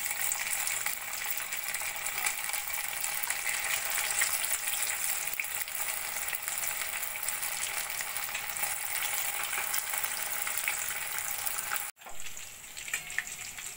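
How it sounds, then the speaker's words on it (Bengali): Green chicken pakoras deep frying in hot oil give a steady, dense sizzle close by, with a brief dip near the end before the crackling resumes. "একইভাবে বাকি পকোড়াগুলো ভেজে নেব।"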